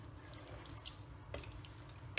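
Water poured into a pot of sambar, a South Indian lentil and vegetable curry made without sambar powder or coconut, gives a steady, soft, close trickle and drip for about two seconds with no talking, ending in a brief louder splash.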